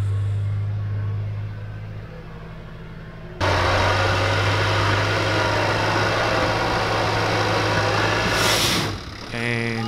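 Off-road vehicle engine working hard while winching up a hillside on a rough back road in Taranaki, a steady low idle rising abruptly into a louder, sustained labouring roar, close by.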